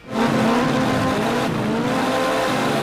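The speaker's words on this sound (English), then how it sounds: "This muddy, chaotic racing game involved different types of vehicles, from ATVs to motocross bikes, sliding dangerously around mountainous tracks" MotorStorm racing game vehicles, ATVs and motocross bikes, slide around muddy mountain tracks: a loud, continuous engine roar with skidding tire noise, starting abruptly and holding steady with no talk.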